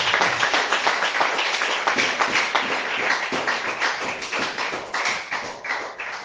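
A church congregation claps continuously in praise, many hands striking together in a dense, roughly rhythmic patter that stays loud and even throughout, with no talking.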